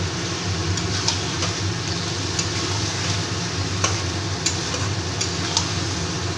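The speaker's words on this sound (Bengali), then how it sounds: "মাংসটাকে এবার কষিয়ে নেব।" Chicken stir-fried in a pan with ground coriander and cumin, a continuous close sizzle with scraping spatula stirs and occasional ticks of utensil on metal.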